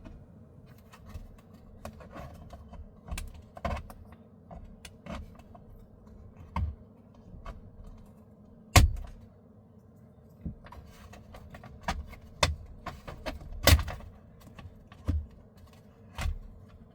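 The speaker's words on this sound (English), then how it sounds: "I'll take the trim removal tool and pry out at the top, and then at the bottom." A plastic trim removal tool pries a factory mirror shroud off a car's interior, producing scattered light clicks and two sharper snapping pops as the clips let go, close by with no talking.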